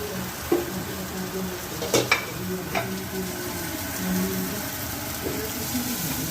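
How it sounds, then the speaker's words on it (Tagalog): Food stir-fried in a pan sizzles steadily while a utensil scrapes and clinks against the metal in a few distinct knocks, close and moderately loud. "Stir fry lang siya."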